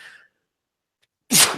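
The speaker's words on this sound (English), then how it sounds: "I'm about to sneeze." A single sharp sneeze from a podcast host, sudden and loud after a short silence, preceded by a faint breathy intake.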